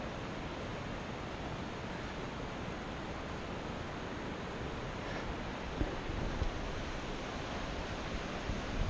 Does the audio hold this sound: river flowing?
yes